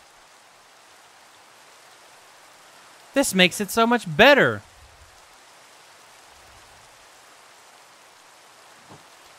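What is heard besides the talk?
rain falling in video game Minecraft, All the Mods 7 modpack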